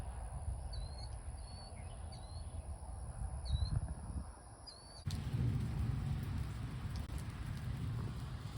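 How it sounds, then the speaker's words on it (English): A Florida thunderstorm pours steady rain, with a low rumble of thunder and a high electronic chirping repeating over the hiss before the downpour grows suddenly louder and denser. "it's also really been enjoyable watching the storms roll in"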